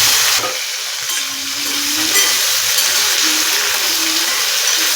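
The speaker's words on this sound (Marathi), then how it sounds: "सगळी पडवळ आपण याच्यामधनं थोडी फ्राय करून घ्यायची तळायची नाही आहे फक्त थोडी फ्राय करून घ्यायची" Pieces of pointed gourd (padwal) fry lightly in a pan with cumin and turmeric. A steady bright sizzle holds throughout, and faint stirring scrapes are heard beneath it.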